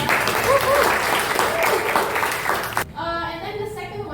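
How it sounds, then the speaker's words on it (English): A classroom audience breaks into brief clapping for a student, a few seconds of dense claps that cut off abruptly, followed by a voice and a short tonal sound. "Okay, applause for Kalista."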